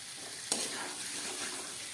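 Potatoes with salt, spices and peas sautéing in a hot pan for aloo dum, a soft, steady sizzle with a sharp clatter early on, no voices.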